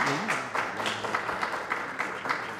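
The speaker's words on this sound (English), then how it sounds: "Let's give our panelists a round of applause." An audience at a panel discussion on the November election claps for the panelists. The applause is moderate and fairly sparse, with distinct individual claps, and a voice briefly carries over the start.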